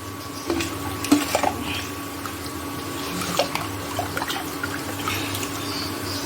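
Herbal hair-ingredient paste stirred into liquid in a pot, soft watery swishing and occasional light clinks of a spoon against the pot over a steady low hum, close and quiet.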